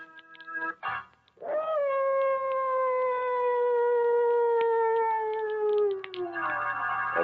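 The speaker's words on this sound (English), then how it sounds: "mad dogs howling in the background" Mad dogs howling as a radio drama sound effect for a story set in darkest Africa: a short yelp, then one long, steady, mournful howl that slowly falls in pitch, with another howl rising at the end.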